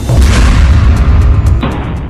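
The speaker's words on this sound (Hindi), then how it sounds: "जो धमाका है उसमें न सिर्फ इजराइल का टैंक फट रहा है" A loud, deep boom of an Israeli Merkava tank exploding in Jabalia, rolling into a long rumbling roar, followed by a few sharp crackles and pops.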